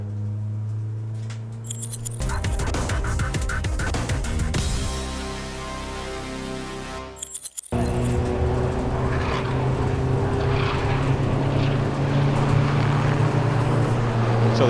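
Ford Focus Cup race cars run at Donington Park circuit. Engines drone and rise as the cars pass, with a sharp break midway before a fresh wave of roaring engine noise carries on to the end.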